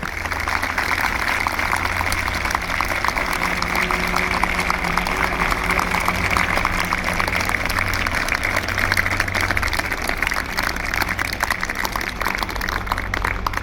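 Sustained applause from a school audience at a career guidance seminar, steady dense clapping that carries on evenly for over ten seconds over a low hum.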